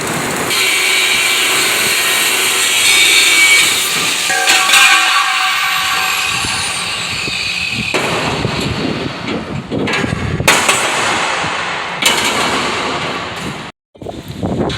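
Power tool cutting out a piece of steel trailer flooring for a custom Chevy stepside trailer build: a loud, continuous close-up grinding whine that shifts in pitch and briefly cuts out near the end.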